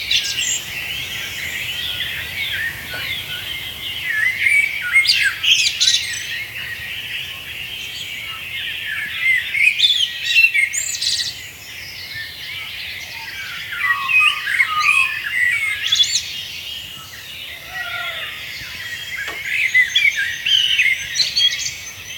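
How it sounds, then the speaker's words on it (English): Dawn chorus in Prospect Park, Brooklyn: many birds calling and chirping at once, with dense overlapping squawks and trills rising and falling in waves, and a steady insect-like buzz beneath, no talking. "The second recording is of the dawn chorus."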